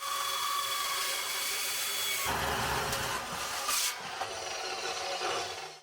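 A loud, continuous whine of a power saw with a fine-tooth blade making a 10-degree cut, shifting into a heavier, rougher grinding as the blade bites through wood, then easing off.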